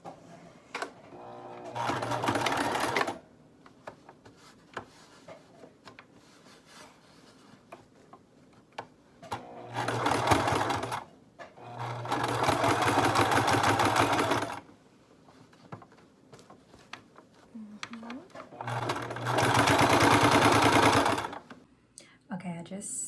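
A sewing machine stitches the waistband onto red high-waisted pants in three loud, steady runs with pauses between, and a person talks quietly in the gaps.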